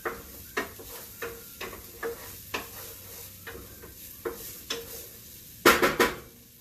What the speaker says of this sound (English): we've got our onion, garlic, and bay leaf cooking